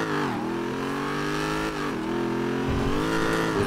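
A car revs steadily in a video game, its supercharger whine ringing over the engine drone for a few seconds, with slight dips in pitch and a surge near the end. No one speaks.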